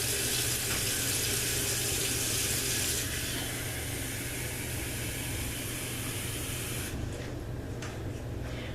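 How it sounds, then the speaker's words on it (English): Water runs steadily from a tap into a pot of chopped carrots for a vegetable soup, a continuous broadband hiss that shifts in tone partway through as the pot fills, then eases with a few softer splashes near the end. "What I want to do is just add enough water to cover this"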